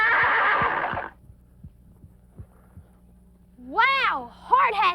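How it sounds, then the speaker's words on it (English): A horse whinnies twice near the end, a loud, quavering neigh followed by a shorter second call, after a voice speaks briefly and a quiet pause with soft hoof-like thumps. "this isn't just any old horse"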